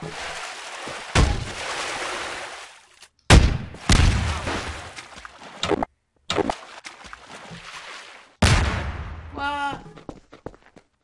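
Musket shots from a pirate battle in Garry's Mod, several sharp loud bangs spaced a few seconds apart amid game noise, with people talking in between.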